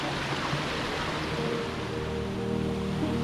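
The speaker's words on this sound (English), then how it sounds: "Right next to the waterfall." Greeter Falls waterfall heard from close by at the upper falls: a dense, steady roar of rushing water, loud and continuous with no voices.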